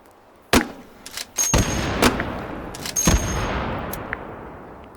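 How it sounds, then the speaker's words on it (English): Shots from a pump-action M79-style grenade launcher in a VR shooter: sharp, loud, separate reports spaced about a second apart, each with a short ringing tail and some mechanical clunks between shots. "you can think of it as a pump-action M79"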